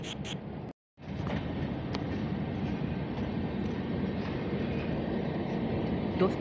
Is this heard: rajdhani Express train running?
yes